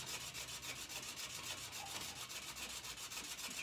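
A wooden pen blank being hand sanded with abrasive paper, producing a steady, rapid back-and-forth rubbing rasp, close and continuous, with no talk.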